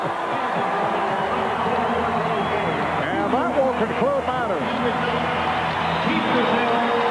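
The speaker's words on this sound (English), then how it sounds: "An appreciative crowd here at the Gund Arena. Standing ovation for the Dream Team as they have defeated Brazil 109-68." An arena crowd at Gund Arena gives a standing ovation after the Dream Team's 109-68 basketball win over Brazil, a steady roar and babble filling the hall while a commentator talks over it.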